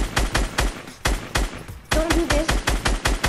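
Rapid bursts of gunfire in a first-person video game shooter, loud and close, with repeated sharp cracks in quick rhythmic volleys and brief pauses between strings; a voice speaks briefly.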